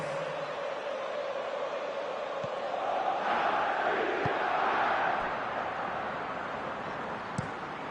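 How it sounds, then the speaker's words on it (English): A stadium crowd in Pro Evolution Soccer 2020 swells into a broad murmuring roar of approval, then settles back to a steady background hum, with a few faint thuds. "Crowd appreciates good football all round there."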